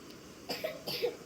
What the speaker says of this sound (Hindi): ये आप खांस रहे हो,